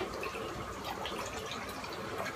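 Distilled or RO water poured into a measuring cup, a steady close trickling splash that runs unbroken without any talking.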